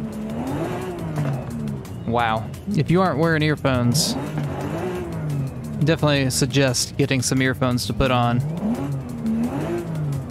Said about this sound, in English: Let's get a few revs.